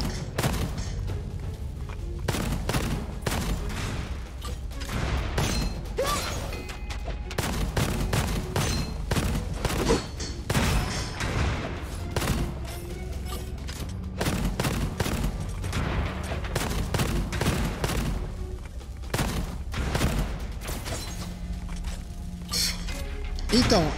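Rapid bursts of gunfire from the cartoon-style shooter game Gunfire Reborn crackle in quick irregular volleys, mixed with mechanical clicks and reload sounds at a moderate level throughout.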